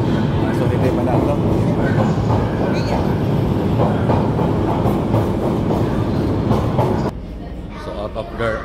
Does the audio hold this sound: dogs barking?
no